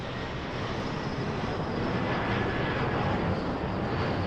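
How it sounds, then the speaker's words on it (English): A jet airliner arriving on runway 24 right at Los Angeles International Airport roars steadily and loudly, a continuous broad engine rush heard from nearby without any talking. "But first we have an arrival on runway 24 right."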